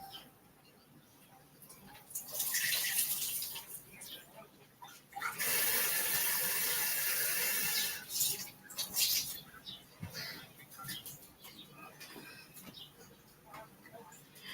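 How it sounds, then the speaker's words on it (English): Water is poured into pickle jars packed with vegetables in a home kitchen, coming in two loud, hissing bursts of a few seconds each, with quieter clinks and trickles between and after them. "And just add some water."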